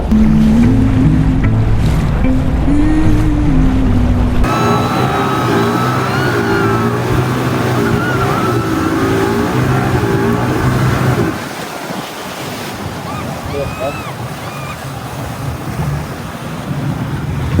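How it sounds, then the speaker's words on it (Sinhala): A speedboat ride on the sea at Phuket: a loud, steady engine drone with rushing water and wind buffeting the microphone, the motor tone dropping away partway through and leaving hiss and splashing. "තවත් ස්පීඩ් බෝට් ඇඩ්වෙන්චර්ස් එක්ස්පීරියන්ස් කරා පුකට් වල."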